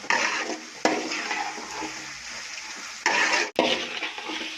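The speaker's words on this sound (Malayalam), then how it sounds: "ഇവിടെ ഉപ്പിട്ട് നല്ലതായിട്ടൊന്ന് ഇളക്കിയെടുക്കാം" Carrot mango pickle with salt stirred in a pan, giving a steady gritty scraping and sizzling swish. The strokes are close and continuous, with a short bump and pause near the end and no talk.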